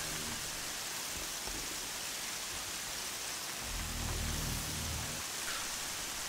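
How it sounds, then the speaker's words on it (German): Steady rain pours down in the open-world video game Horizon Zero Dawn, a constant hiss that holds through the clip with a low rumble swelling near the end, no voices over it. "jetzt sehe ich richtig, dass es regnet"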